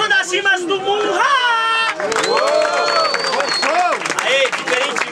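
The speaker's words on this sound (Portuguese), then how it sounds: "Barulhos, barulhos pra quem gostou das rimas do Murra!" Crowd at a rap battle in Brazil cheering and clapping loudly, with whoops and shouts, while a host calls out over the noise.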